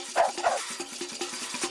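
A dog on a remote reef in the Australian bush barks in a quick series of sharp, close yips, about eight in under two seconds, with no talking.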